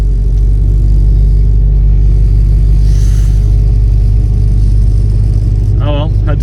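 An LS-powered Ford wagon with a broken differential crawls uphill, its engine a loud, steady low rumble close to the microphone, with a brief whining squeal near the end and a voice talking over it.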